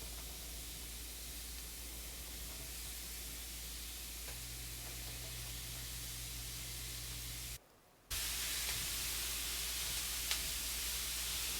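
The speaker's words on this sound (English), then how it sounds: "Listen to that sizzle." A steady, loud hiss of vegetables sizzling in a hot pan, broken by a brief near-silent gap before the crackling resumes.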